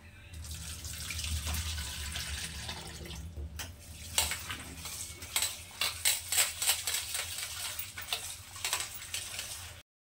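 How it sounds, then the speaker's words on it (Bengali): Bitter gourd and potatoes being washed together under running tap water in a home kitchen sink, a steady rush of water with clinks and knocks of vegetables and utensils, close by, no talking. "উচ্ছে আলুগুলো খুব ভালো করে একই সঙ্গে ধুয়ে নিচ্ছি"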